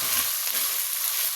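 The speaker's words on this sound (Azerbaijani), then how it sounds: "beləcə qarışdırırıq" Chopped greens fry in hot oil in a pan as filling for blikcik, with a steady bright sizzle and crackle and a faint scrape of stirring, close and continuous.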